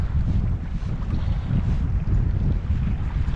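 Strong wind roars and buffets the microphone in a continuous low rumble outdoors on Lake Cootharaba, with no voices.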